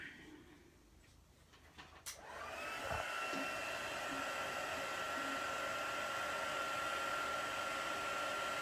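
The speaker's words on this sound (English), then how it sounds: "with the powder. And the heat gun." Heat gun blowing hot air to melt embossing powder on Crumb Cake kraft cardstock, a steady loud whooshing roar that switches on after a couple of seconds of near silence and holds constant.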